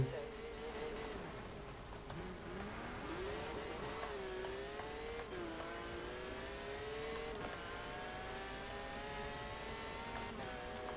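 A Porsche 911 GT3 RS engine in the racing game Forza Horizon 4 revs steadily, its pitch climbing and dipping through gear changes in a sustained close drone, with a voice talking faintly at times underneath.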